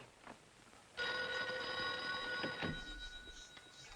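A telephone bell rings out sharply after a second of quiet, one sustained trill lasting over a second, then fading into a faint background, in the 1949 film D.O.A.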